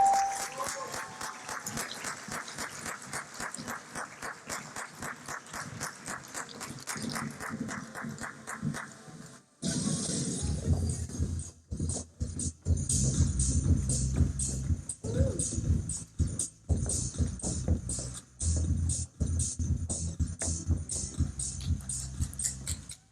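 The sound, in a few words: audience applause at awards gala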